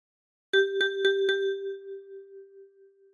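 A 10-key kalimba plucked four times on the same key in an even rhythm, bright metallic tones ringing out close and clear, the last note sustaining and slowly fading.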